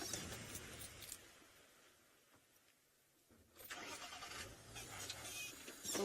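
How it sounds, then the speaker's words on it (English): A safari vehicle's engine cranks and fires up, its mid-pitched rumble dropping away briefly then returning loud and close as the motor catches and runs. "Oh no, car, don't stop now."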